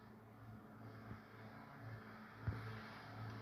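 A car engine in the Roblox game Car Obby holds a steady low drone with a couple of sharp thumps, quiet and continuous throughout, with no talking.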